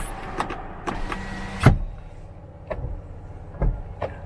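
Toyota Corolla Altis power windows moving inside the car, several short motor whirs and clunks spaced apart, close and fairly quiet with a sharp thump midway.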